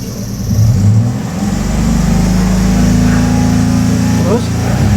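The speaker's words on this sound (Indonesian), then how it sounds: "Lalu sekarang dicoba RPM tinggi atau pas akselerasi." A car engine is revved to high RPM during acceleration and held at a loud, steady drone, checked by a vocational class for a fault where the engine struggles at about 4,000 RPM.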